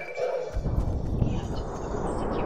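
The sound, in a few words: horse neighing in video game Fortnite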